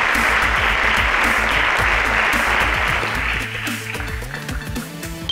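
An audience at a school quiz show breaks into dense, sustained applause that fades slightly toward the end, with background music rising beneath it.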